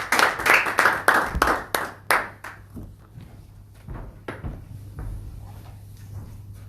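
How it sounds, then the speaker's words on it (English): Sparse clapping from a small crowd at a live real estate auction in Sydney, a few loud claps that thin out into scattered individual claps and settle into room noise within a few seconds. "Give him a big round of applause."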